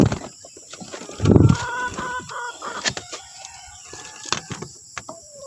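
Free range chickens in their coop on a small farm, clucking and rustling nearby with one louder burst of activity, continuing in scattered short calls.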